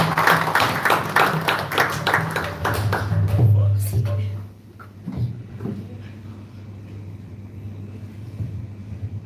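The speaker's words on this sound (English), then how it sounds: "Give him a round of applause." An audience at a devotional gathering applauds a speaker with a burst of clapping that fades within a few seconds, followed by quieter room noise and scattered sounds.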